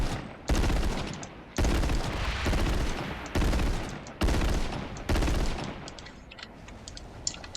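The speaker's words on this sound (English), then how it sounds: "2 machine guns located on the bottom that provide a 1, 2, 3, 4 shot burst." A Scarab's underside machine guns in Halo 3 fire six loud, close bursts of rapid shots, each about half a second to a second long and separated by short gaps, then fade into quieter rattling at the end.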